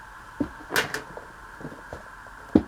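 Someone opens a scrap-paper drawer at a craft table: a few short wooden knocks and a quick sliding scrape, spaced irregularly and heard up close.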